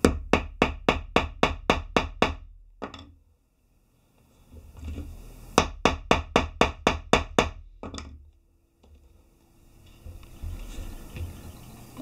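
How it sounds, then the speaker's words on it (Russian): Rapid runs of sharp metallic taps from a small hammer striking a center punch, about ten quick strikes in each burst, repeat twice with quieter shuffling in between. "Наставляем и молоточком керним."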